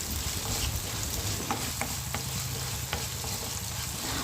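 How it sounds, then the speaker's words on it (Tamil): Onion and green chili sauté in oil in a pan, giving a steady loud sizzle throughout with a few faint scrapes of stirring. "வெங்காயம் பச்சை மிளகாய் கீரி வச்சது எல்லாத்தையும் போட்டு நல்லா வதக்கிக்கோங்க"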